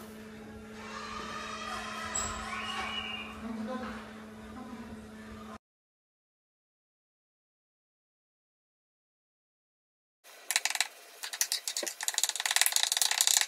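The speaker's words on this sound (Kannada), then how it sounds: "Ginger garlic. ಇದನ್ನ ಸಣ್ಣದಾಗಿ ಚಾಪ್ ಮಾಡ್ಕೊಳ್ಳೋಣ" Ginger and garlic are chopped finely, giving a close mechanical ratcheting whir in two stretches with a silent gap between; the second stretch is harsher and busier.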